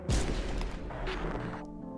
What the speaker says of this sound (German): Bro, ein Shotgun-Schuss direkt, halber Körper weg.